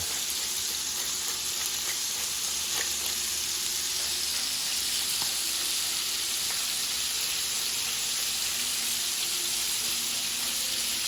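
Scallops sizzle in a hot pan with a steady, even hiss and fine crackle that runs on without a break, moderately quiet and close, with no voices.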